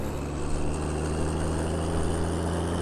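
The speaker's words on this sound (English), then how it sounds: "Racing tractor's doing great" Tractor in Farming Simulator 19 running at a steady, droning idle, with a constant low hum and whine that stays close and even throughout, no voices.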